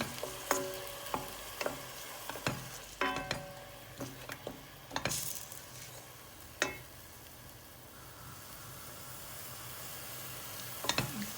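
Chopped onions fry in a pot for a Turkish beef stew, giving a low steady sizzle broken by sharp clacks and scrapes of stirring, close by and without talk.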